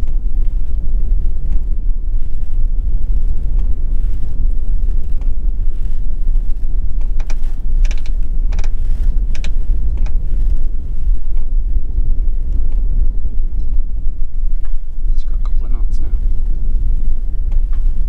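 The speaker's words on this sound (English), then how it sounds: "it's very, very windy" Strong wind on a boat buffets the microphone with a constant deep rumble and roar, with scattered creaks and clicks over it.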